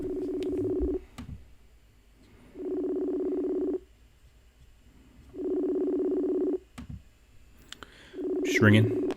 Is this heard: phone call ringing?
yes